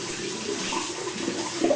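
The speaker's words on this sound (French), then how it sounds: "je vais faire couler de l'eau chaude sur une serviette et je vais venir rincer" Hot water runs steadily from a tap onto a towel, a short, even stream of splashing and gurgling close by with no voices.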